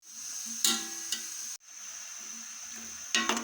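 Four large sliced onions fry in a cup of oil with a steady sizzle, broken by a few brief louder crackles and stirring noises.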